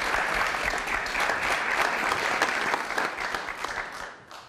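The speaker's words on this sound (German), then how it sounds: "Begrüßen Sie Bettina Gauss mit einem herzlichen Applaus." An audience at a panel discussion claps warmly to welcome Bettina Gauss, a full, even wash of applause from many hands that holds steady and then tapers off near the end.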